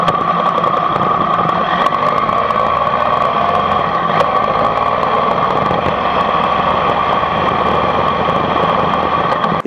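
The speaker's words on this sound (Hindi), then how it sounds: "तो मैं आपको एग्जॉस्ट एक बार सुना देता हूँ।" A Triumph Tiger 1200 motorcycle idles steadily through an aftermarket exhaust, a loud, even drone that holds constant throughout with no talking.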